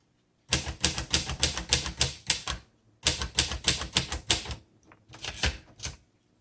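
Brisk keystrokes on a 1957 Royal Quiet De Luxe manual typewriter in two quick bursts, sharp clacks in a steady rhythm with a short pause between runs, close and fairly loud.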